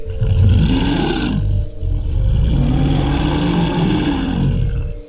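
Two bears in a dark, unfamiliar forest roar loudly and continuously in a horror audio drama, a deep, heavy growling roar with a brief dip before it swells again.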